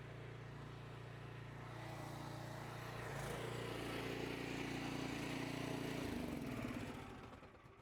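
Pressure washer engine running at a steady drone, rising slightly in the middle before winding down as it shuts off near the end, with no talking.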